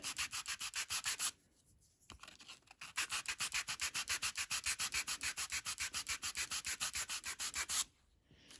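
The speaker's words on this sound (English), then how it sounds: "Let me just try sanding this a little bit on each side." A case piece from a Macintosh 512Ke under restoration is sanded by hand with quick, even back-and-forth rasping strokes. The strokes stop briefly and resume for a long steady run before ending, close and clear with no talk.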